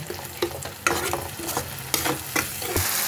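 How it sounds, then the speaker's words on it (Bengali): Spice paste sizzles loudly in a pan with a splash of water as it is briskly stirred, producing continuous frying hiss with frequent scraping strokes up close. "মশলাটা এখন একটু ভালো করে আমি কষিয়ে নেব"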